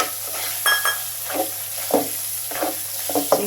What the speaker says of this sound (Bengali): এখন পর্যায়ে আমি দিয়ে দিব কেটে ধুয়ে রাখা চিংড়ি মাছগুলো